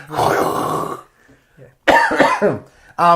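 A loud, close cough lands right on the microphone, a harsh burst followed by a quieter throaty rasp and another sharp hack, with no words spoken.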